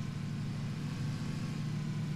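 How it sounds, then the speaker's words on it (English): Car engine in the video game PUBG, a low steady idling rumble heard from nearby outside a building, continuous and fairly quiet with no voices over it. "That's a car. Somebody's like right outside."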